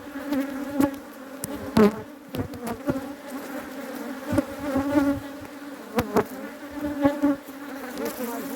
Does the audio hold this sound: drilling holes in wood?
no